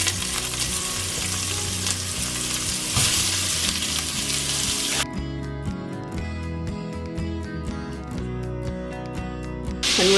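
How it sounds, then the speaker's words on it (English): Onion frying in hot oil in a frying pan gives a steady, loud sizzle throughout, with stirring scrapes and a brighter, crackling texture in the second half. "I've just got a bit of oil heating in the frying pan"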